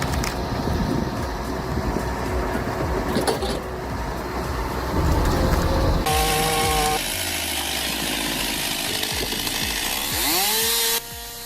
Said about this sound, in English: You really need to see this to understand how fast that chainsaw is.